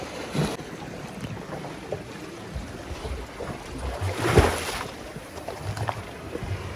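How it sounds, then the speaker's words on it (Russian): Sea waves washing over a walkway at the Blue Grotto in Malta, a constant rough wash and rumble with wind and a brief louder surge near the end. "волны захлестывают"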